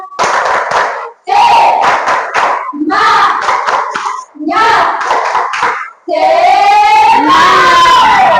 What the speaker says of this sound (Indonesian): Jadi kita mulai tepuk semangat.